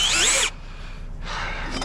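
A drill bores into metal in two short bursts, a screeching high whine that cuts off, a brief pause with low background hum, then the drilling resumes; no one talks.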